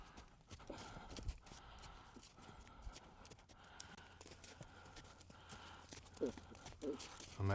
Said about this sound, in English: So now I'm going to ask the horse to change direction.